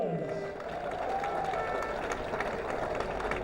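A speedway crowd cheers and applauds as a rider is introduced at a Swindon Robins versus Poole Pirates meeting, a steady mass of clapping and distant cheering with a voice speaking faintly at the start.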